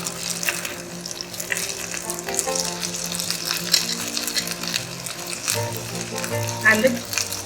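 Green peas and vegetables sizzle in butter in a kadai on the fire, a steady close frying hiss with some stirring clatter and background music running throughout.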